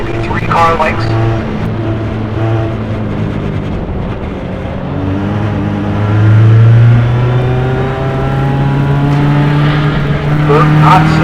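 Single-seater race cars at Mid-Ohio scream past at full throttle, engine notes climbing and shifting as they pull away, loud and close over a racing commentator's voice.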